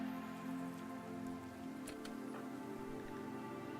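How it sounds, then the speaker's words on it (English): Steady soft rain pattering in the RimWorld video game, a faint even wash with a few brief louder ticks. "It's still raining."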